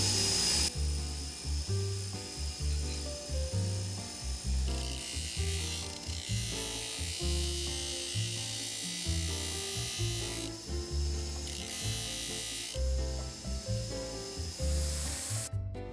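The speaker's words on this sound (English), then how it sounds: "I'm using a 220 belt on my belt sander." A belt sander running a 220 grit belt grinds steadily on a short-handled hammer, a continuous loud whirring rasp with slight surges in pressure and no talk.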